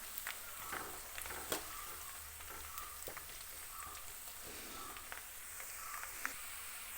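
Garlic, green chillies and curry leaves frying in oil for a homemade gooseberry pickle, a soft, continuous close sizzle with faint crackles and occasional light taps, no voices.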